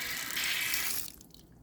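Water gushes hard from a campsite faucet, a steady bright hiss that runs for about a second before being shut off and tapering into a quiet trickle, close by, no talking.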